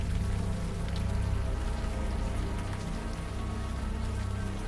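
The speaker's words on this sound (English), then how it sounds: "the warm rain is coming down" Warm rain pours down in the video game Unavowed, a dense, steady patter of drops on surfaces, loud and continuous throughout with no voices.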